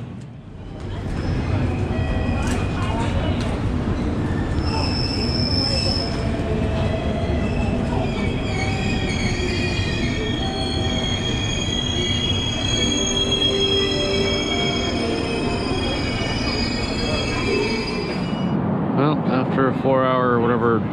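Steady rumble and clatter of a train rolling on rails, with high wheel squeals and faint voices underneath, continuous and close throughout.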